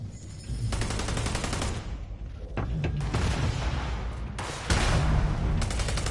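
Sustained rapid gunfire and rocket blasts from a Starfield firefight on PS5, dense and loud throughout, with several abrupt shifts in intensity and no speech.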